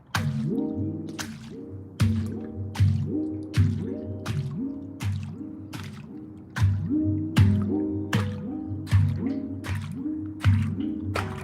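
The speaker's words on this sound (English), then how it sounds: "when I drop it in the water, it makes some cool sounds too" An object dropped into water produces a long series of bright, resonant drips and plops with ringing tones, repeating in a steady rhythm about every second, close and clear with no talking.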